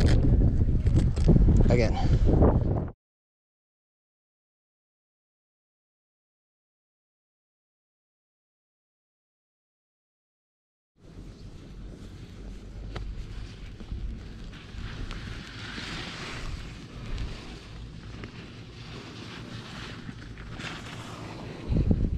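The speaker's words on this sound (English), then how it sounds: "Wind's not even really helping with the snow either." Strong wind sweeps across snow on Tucker Mountain, a loud gusty roar buffeting the microphone for a few seconds, then a long silence before the blustery rush returns and continues; voices talk briefly.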